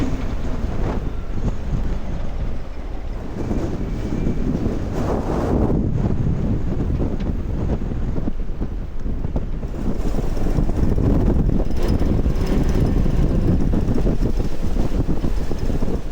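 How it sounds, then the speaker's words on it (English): A gale howls across a sailboat riding at anchor in a Scottish anchorage, steady roaring wind buffeting the microphone, with gusts surging louder toward the end and no voices. "as you can see and hear, it's definitely still blowing a bit here in the anchorage."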